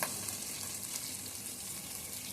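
Onions sauté in a pan with green chillies for chicken biryani, giving a steady, faint, even sizzle throughout with no talking.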